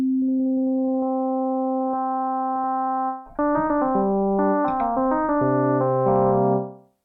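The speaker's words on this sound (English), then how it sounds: "mod matrix, routing from oscillator 1 to oscillator 2, both sine waves, both the same pitch" Steady sine-like synth tone with a soft, hollow timbre, followed by a run of brighter, more complex FM-modulated notes at a similar pitch, then a fade.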